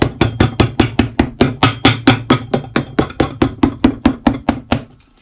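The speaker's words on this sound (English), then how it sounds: "While it's warm though, I got a hammer." Hammer striking a leather half sole being fitted onto a Lucchese boot, about twenty sharp evenly spaced blows in a steady rhythm, close and loud, no talking.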